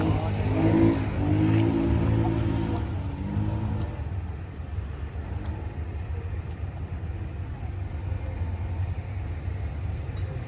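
A Henschel GK diesel locomotive hauling a passenger train at Bang Sue, a loud, close engine roar that rises early, then settles into a steady rumbling drone with a thin high whine.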